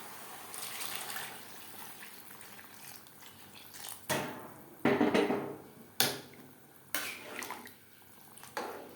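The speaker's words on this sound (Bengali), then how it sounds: "দু 3 মিনিট চাল, ডাল ও সবজির সাথে নাড়াচাড়া করে নেওয়ার পর দিয়ে দেবো জল।" Water is poured into a pot of rice, moong dal and vegetables for khichuri, arriving in several separate splashing gushes over a quiet kitchen background.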